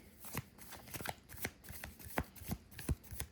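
Tarot cards shuffled by hand, a run of crisp riffling and tapping bursts close up, irregular and fairly quiet, with no talking.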